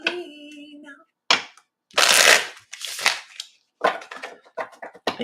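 Cards are riffled and shuffled in several quick bursts of crisp fluttering snaps, close up, separated by brief pauses.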